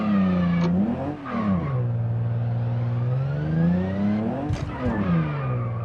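Engine revs in BeamNG after the clutch is engaged, a loud, steady harmonic drone that dips and swells twice as the RPM rises and falls, with no talk over it.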